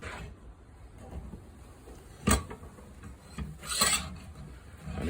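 A knife blade is drawn through an EZEsharp blade sharpener, giving soft rasping strokes with two louder, distinct scrapes a second or so apart, close by and without talk.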